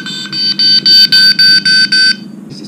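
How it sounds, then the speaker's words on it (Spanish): Brilliant Pebbles AON2 altitude alarm under test, sounding a run of about seven loud, evenly spaced electronic beeps of rising then steady pitch, alone with no voices. "ya viene precargado con cuatro alarmas diferentes"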